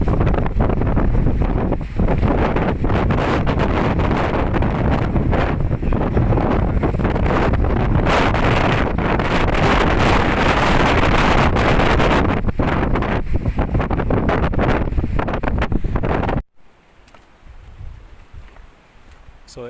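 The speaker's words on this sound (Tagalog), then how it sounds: "Yung sobrang lakas ng hangin at malakas din yung alon." Loud, steady wind buffeting the microphone on a high rock, with a constant roar of strong wind and waves, cutting off abruptly to a much quieter background near the end.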